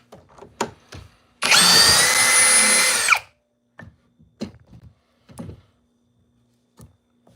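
Power drill backing screws out of wood pieces held together, one loud continuous whirring burst lasting under two seconds, surrounded by scattered clicks and knocks of handling.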